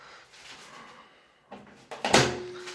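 A door on a homemade microwave oven built from scrap metal is pushed shut. Soft rustling leads into a few clunks and a final sharp metallic latch near the end. No one speaks.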